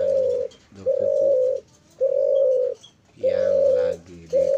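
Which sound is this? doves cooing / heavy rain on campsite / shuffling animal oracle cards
doves cooing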